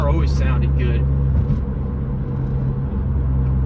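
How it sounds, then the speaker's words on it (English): A BMW M3 with an aftermarket exhaust sends out a steady, deep engine rumble from close by, and a voice talks over it throughout. "The sound's just so nice, especially with that exhaust."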